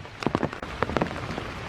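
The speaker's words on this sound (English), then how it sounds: "It's dark, it's raining, it's foggy." Rain patters on surfaces on a dark, foggy morning in Iroquois Park, a soft steady hiss with scattered close drops and no voices.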